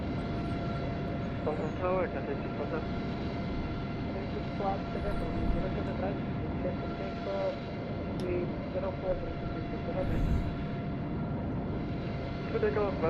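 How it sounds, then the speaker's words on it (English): Aircraft engines in Microsoft Flight Simulator 2020 at Hong Kong airport: a constant low engine drone with faint, sparse radio-style voices over it. "That aircraft is still there."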